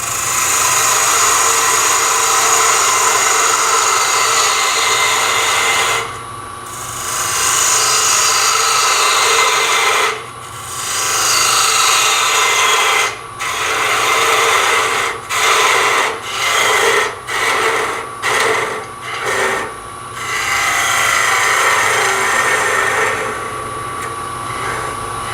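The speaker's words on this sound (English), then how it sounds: "Get out my bullet gouge. And all I'm going to do is clean up this edge and this face" A bullet gouge scrapes and cuts a wooden jam chuck spinning on a lathe, a loud continuous rasp broken by several short pauses as the tool lifts off and returns.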